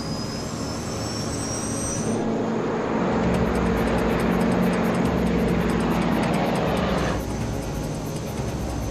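An airliner takes off with its jet engines at full thrust, a loud, steady, broadband roar that holds throughout with a high whine riding on top and no voices.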